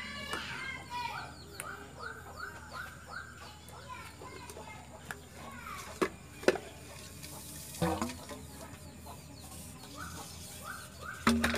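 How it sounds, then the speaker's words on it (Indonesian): Water runs and gurgles through a homemade well water filter, a continuous trickling flow with small splashes and a few knocks of handling, while a person talks over it nearby and birds are faintly audible. "Dan air udah berbunyi di sini, tandanya air naik."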